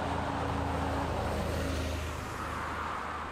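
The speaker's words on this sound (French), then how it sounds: "En sortant de Thieu pour retourner à la gare, on a justement croisé un de ces 3 passages du bus 22." A line 22 bus passes near Thieu, its engine a low, steady rumble that stays fairly strong before easing slightly toward the end, with no voices.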